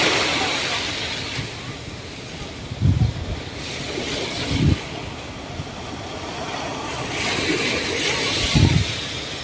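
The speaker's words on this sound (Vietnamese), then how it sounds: "Trưa trên bờ biển Nha Trang còn rất là đông, chủ yếu là khách Tây nhiều hơn khách ta." Surf rolling onto Nha Trang beach at midday with wind buffeting, a steady wash of waves with a few louder low thumps of breaking water and gusts.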